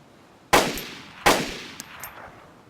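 Gunfire in the survival video game DayZ: two loud, sharp reports about three-quarters of a second apart, each with a rolling echo tail, then a faint click, with no voices.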